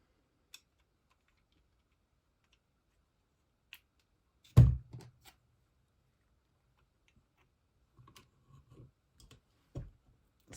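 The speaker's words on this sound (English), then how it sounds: "Excuse the banging on the table there." Loud bangs and knocks on a tabletop while faux metal tags are punched with a hand tool, one sharp heavy thump followed by a few softer scattered taps and clicks in an otherwise quiet room.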